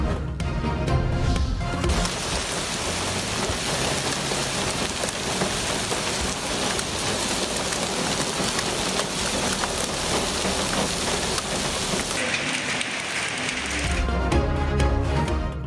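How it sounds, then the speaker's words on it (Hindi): Heavy rain with hail pours in Islamabad and Rawalpindi, a dense, loud, continuous patter of drops striking surfaces close by, with no voices. "इस्लामाबाद और रावलपिंडी में तेज बारिश के साथ ओले गिर पड़े।"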